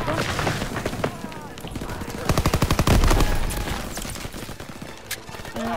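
Rapid bursts of machine gun fire in the World War II shooter game Call of Duty WW2, loud and close, with dense rattling volleys peaking midway over explosive in-game battle noise, while a player talks throughout.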